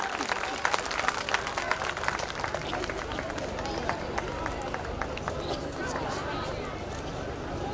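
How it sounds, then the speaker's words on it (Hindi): Applause at a school annual day prize ceremony for a class student who took first position, a steady dense patter of many hands clapping through the hall, with a busy crowd and some voices mixed in. "जोरदार तालियां हो जाए भाई"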